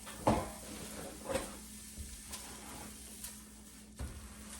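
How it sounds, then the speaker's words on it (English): Deer sausage sizzling in a frying pan during breakfast cooking, a soft steady hiss with a few light clinks of a utensil against the pan, fairly quiet and close. "See, here it's sizzling. It's already cooking."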